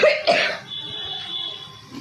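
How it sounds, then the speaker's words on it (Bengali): Two quick, close coughs in a row from one person, followed by a quiet indoor room with a faint steady hum. "কাশি হয়েছে, কাশি,"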